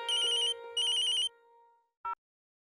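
A telephone ringtone plays indoors in a home, two bursts of bright repeating electronic tones, then a short click-like tone after a pause; no one speaks over it.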